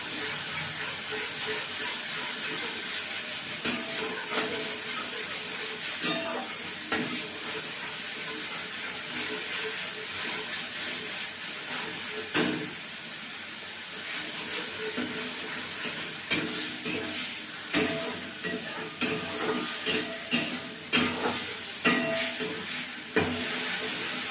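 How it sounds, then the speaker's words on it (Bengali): Beans filling for kochuri stirred and fried in a pan over medium heat, a steady sizzle running throughout with scraping stir strokes that grow more frequent toward the end. "মাঝারি আঁচে এটা নেড়ে নেড়ে এটা একটু করতে হবে যাতে কাঁচা গন্ধটা চলে যায়"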